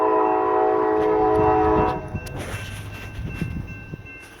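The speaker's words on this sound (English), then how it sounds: "He's coming westbound. It's a UP manifest train." A westbound Union Pacific manifest freight train at Tehachapi sounds a loud, sustained horn chord that cuts off after about two seconds, followed by rumbling and clanking railcars rolling past nearby.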